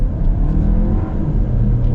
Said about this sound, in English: once this light goes to green, we'll get another little acceleration basically